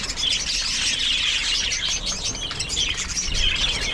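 A crowded flock of pet parakeets keeps up a dense, continuous chatter of high chirps and twitters, close and busy, with faint wing flutters mixed into the steady bird noise.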